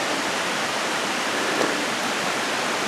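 The San Ramon waterfall, La Cascada, on a volcano: a constant loud, broadband roar of rushing water, steady and unbroken throughout with no talking.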